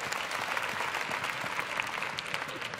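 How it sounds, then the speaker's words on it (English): A church congregation claps in warm, continuous applause for a couple. The clapping is dense and even, heard from within the crowd, and a few voices rise faintly underneath. "let's give a hand clap to Brother and Sister Copeland"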